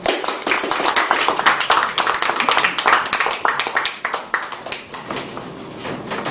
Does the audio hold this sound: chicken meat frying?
no